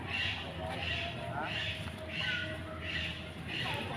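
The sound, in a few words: eagle call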